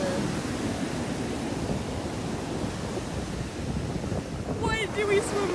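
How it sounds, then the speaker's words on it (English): Large ocean waves crash and roar during Hurricane Michael. A dense, continuous wash of surf is mixed with heavy wind buffeting, and a brief high squeal appears near the end. "Look at those waves."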